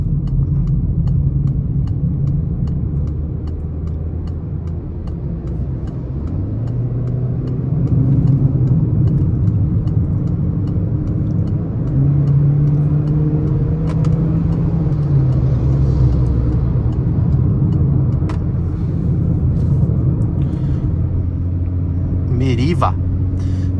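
A 2022 Peugeot 208 Allure 1.6 automatic cruises a highway while overtaking a truck, giving a steady, loud interior road rumble and engine drone that holds throughout with slight swells in level.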